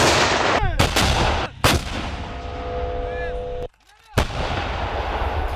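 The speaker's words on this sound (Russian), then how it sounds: "гремит залп." A volley from 2S4 Tulip heavy self-propelled mortars at a military exercise firing range: several loud booming blasts with rolling echoes and a brief lull between them, with no talking.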